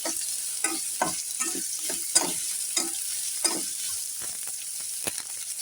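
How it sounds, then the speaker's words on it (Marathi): Onion being sautéed in a hot tempering with curry leaves and chilli, a steady sizzle broken by repeated scraping stirs at an irregular rhythm, close and moderately loud with no talking. "छान असं याला कांद्याला आपण परतून घेणार आहोत"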